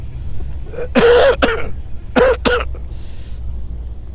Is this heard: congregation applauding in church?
no